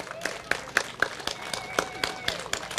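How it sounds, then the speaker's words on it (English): An audience claps for the speakers at a Bigfoot festival roundtable: a scattered, uneven patter of hand claps with sharp individual slaps, fairly close, over a faint room murmur. "Let's give them all a huge round of applause"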